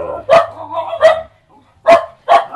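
Dogs bark at another dog passing by, four sharp, loud barks in two pairs separated by a short pause, close by with no talking.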